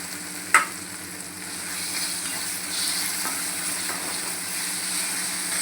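Onion and tomato sautéing in a pan give off a steady, soft sizzle that swells slightly partway through, with a single sharp clink of a spoon against the pan near the start.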